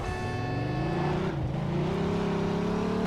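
A car in Mafia 2 drives with a continuous engine drone, revving up so the pitch climbs, dips briefly, then climbs again, loud and close with no talk.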